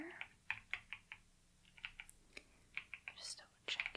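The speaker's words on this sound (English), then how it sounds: "I just have a few last things to type into my computer." Soft, quiet keyboard typing in a hushed indoor setting during a gentleman's suit fitting, with scattered clicks and short bursts of keystrokes spread over a few seconds.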